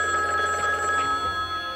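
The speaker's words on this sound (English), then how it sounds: "Snuffer, I think my phone is ringing." A telephone rings in a retro 1990s James Bond Jr cartoon, a continuous bright electronic trill sounding loud and unbroken throughout.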